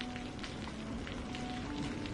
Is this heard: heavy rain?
yes